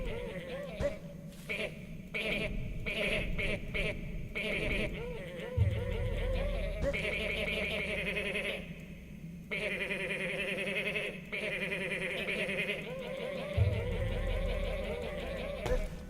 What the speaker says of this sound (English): This is goat mode.